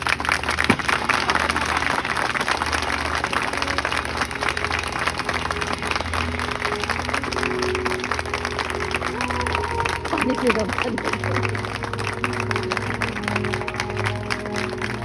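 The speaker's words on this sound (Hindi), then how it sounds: "तो 1 मिनट लंबातार ताली ताली बजा दो लगातार।" Church congregation at a prayer meeting claps steadily and continuously, a dense wash of applause that holds even throughout, with a few voices and background music underneath.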